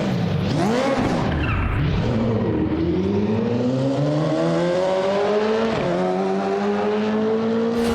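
A BMW M3 GT2 race car laps the Nordschleife in the RaceRoom sim, its engine droning steadily and rising in pitch through the gears, with a brief dip and shift mid-run, loud and continuous with no voices.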